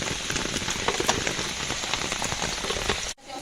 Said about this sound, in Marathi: रात्र झाले आणि पाऊस जोरात आला आहे